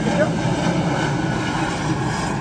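A propeller airplane flies over near a film set, giving a loud, steady drone that holds throughout with no clear rise or fall.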